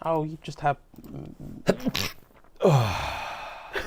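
Someone sneezes amid casual talk, a sharp breathy burst rising out of chatter near the end, with other voices speaking around it.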